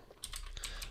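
Quick burst of several keystrokes on a Mac computer keyboard entering a short terminal command, crisp close clicks with no voice.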